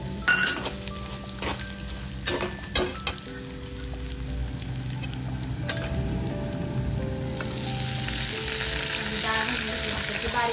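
Moth bean dal sizzling and frying in a pan while being stirred, with dill greens about to go in; a steady close hiss with occasional scraping clinks that grows louder and brighter toward the end, no talking.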